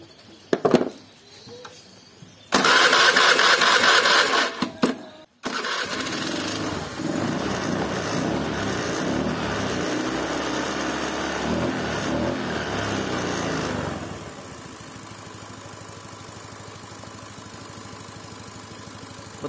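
A fuel-injected Honda Beat scooter engine with an unstable idle fault is started, then settles into a steady idle that later drops to a quieter, lower running note; the sound is close and mechanical, with no talking.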